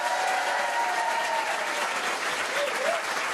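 An audience at the Paname Art Café comedy club in Paris applauds, a dense, steady wash of many hands clapping throughout, close and loud with no gaps.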